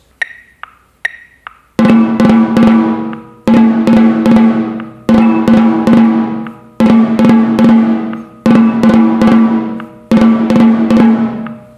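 Crisp snare drum ruffs, each a quick flam of grace notes into a sharp accented hit, alternating right-handed and left-handed, repeated in an even pattern, loud and close.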